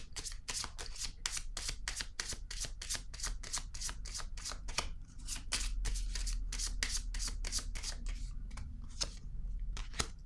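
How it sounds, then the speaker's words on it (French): Tarot cards handled and shuffled on a table, a steady run of crisp, rapid card riffles and slaps close up, with no voice. "Je vais déposer une autre carte."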